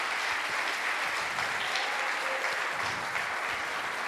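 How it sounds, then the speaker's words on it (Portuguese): A church congregation applauding during a Baptist worship service, steady dense clapping filling the whole stretch with no pause and no speech over it. "Aplauda o nome do Senhor Jesus"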